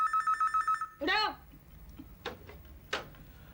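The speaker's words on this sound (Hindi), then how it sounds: "टेलीफोन बज रहा है" A telephone bell rings in a domestic scene, a rapid run of bright electronic trills for about a second, followed by a rustle and a few scattered clicks and knocks as the room goes quiet.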